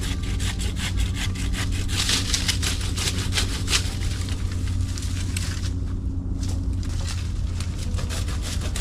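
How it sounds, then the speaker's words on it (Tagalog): A hand saw cuts through a tree branch in Edmonton, Alberta with close, rapid rhythmic rasping strokes that continue steadily, then briefly ease near the end. "mas maganda na lang gamitan ko ng lagari"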